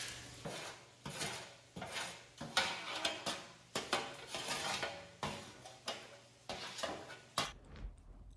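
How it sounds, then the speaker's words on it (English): Seasoned food is stirred and scraped through grease on a metal cookie sheet, with about a dozen rhythmic scraping strokes clinking against the pan at close range before it stops abruptly. "I'm gonna mix these in the grease so that they get nicely coated"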